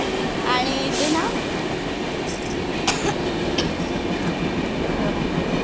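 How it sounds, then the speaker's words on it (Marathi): Trains rumble past near a bridge over a creek area in Thane, a continuous rattling wheel noise with brief squeals and clicks at moderate distance. "ट्रेन पण जात आहेत आजूबाजूला मस्त"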